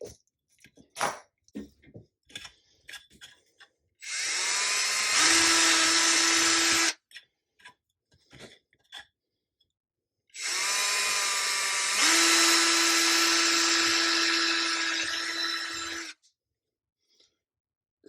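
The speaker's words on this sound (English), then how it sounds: "you can do it with a pump drill" Two sustained bursts of high-pitched drilling from a pump drill with a steady whine, each lasting a few seconds, separated by quieter clicks and handling taps.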